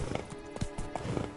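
A horse gallops in The Witcher 3, a short run of quick, rhythmic hoofbeats, close and fairly clear.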